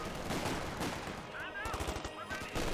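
Battle gunfire from a Company of Heroes 2 match, Grenadiers trading shots with Thompson submachine gunners at an intersection: dense overlapping bursts and single shots crackle continuously, with a commentator talking over the fighting.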